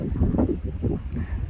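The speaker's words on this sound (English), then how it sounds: "Some wind started now." Wind blowing on La Palma near the lava fields at Tajuya, a brief low rumbling buffet against the microphone, loud and close with no talking.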